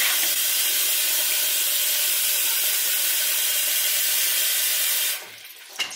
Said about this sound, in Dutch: Lekker aan het koken.